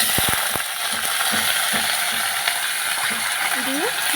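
Hilsa fish oil and roe with bay leaves and dried chilli frying in a pan, a steady broadband sizzle with scattered scraping clicks from a spatula stirring, close and continuous, with faint voice tones in the background.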